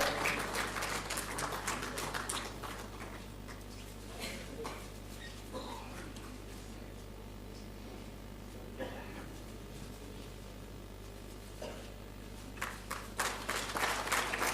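An audience at a national photography awards ceremony applauds as a recipient is invited on stage, with scattered claps rising at the start and end over a steady low hum and quieter stretches between.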